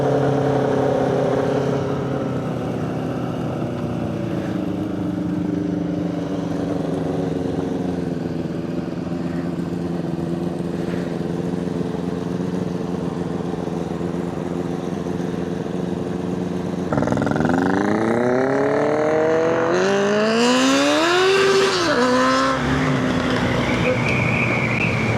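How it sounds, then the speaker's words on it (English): Freshly rebuilt Suzuki Bandit motorcycle engine, one with a slipping clutch, idling with a steady throb before revving up in rising and falling sweeps, loud and close, no talking. "Freshly rebuilt Bandit engine."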